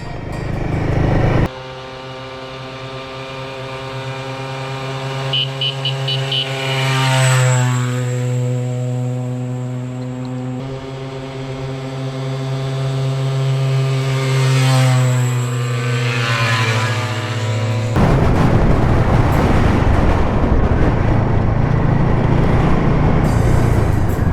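Agbike motorcycles climbing a forest track in Toolangi State Forest, a loud steady engine drone with rising and falling pitch as the revs change, then rougher broadband engine and wind noise near the end, no talk.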